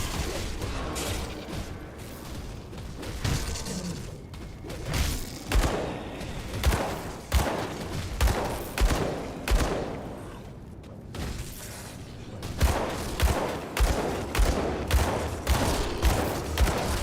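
Repeated gunshot bursts from a gun in the action RPG Grim Dawn, loud, punchy volleys firing in a steady rhythm with short pauses between groups, mixed with clanking game effects.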